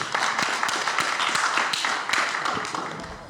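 An audience claps continuously at a business talk event, a dense crowd of overlapping hand claps with a few sharper individual claps standing out, steady and fairly loud before tapering slightly at the end.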